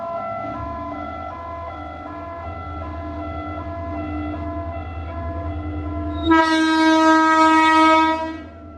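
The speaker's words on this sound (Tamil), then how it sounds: "ட்ரெயின் வரப்போகுது இந்த பக்கத்தில்" A train rumbles past close by in Vavuniya, Sri Lanka, its loud horn blaring for about two seconds near the end before the noise drops away.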